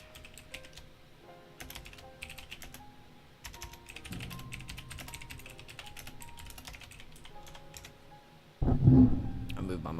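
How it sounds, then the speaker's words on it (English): Keys clatter on a computer keyboard during a live market-charting stream, quick irregular clicks in bursts close to the mic, with a faint low hum beneath and a louder thump near the end. "Y'all probably tired of hearing my keyboard."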